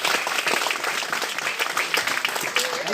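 A church congregation claps together, a dense, steady wash of applause filling the whole moment without a break.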